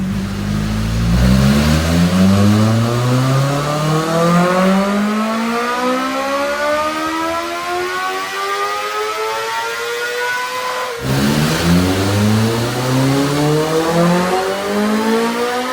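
A 2026 BMW M1000RR motorcycle engine on a dyno, filled with MR12 fuel, revving loud and close in a long climbing sweep to a high pitch, cutting off, then rising again in a second pull.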